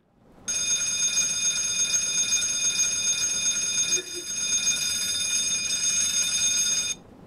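A fire warning bell rings during a cockpit test in a PMDG Douglas DC-6 in Microsoft Flight Simulator, a loud, continuous metallic clanging that starts abruptly, dips briefly near the middle, then cuts off after about six seconds.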